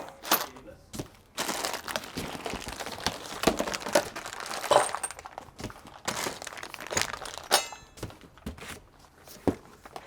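A Duramax suspension lift kit hardware box of nuts, bolts and sway bar brackets is opened, with uneven crinkling of packing material, cardboard rustles and occasional thunks, close and moderately loud.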